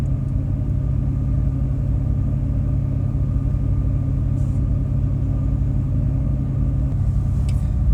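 Car ferry crossing from Gräsö island to Öregrund on the mainland in Sweden, a loud steady engine rumble and low hum from the vessel, constant throughout, with faint splashing above it and no speech.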